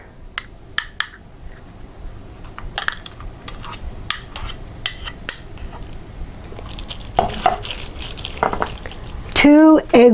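A stick of butter hits a hot pan and sizzles softly, with scattered sharp clicks and pops of utensils and cookware, and a brief louder clatter near the end.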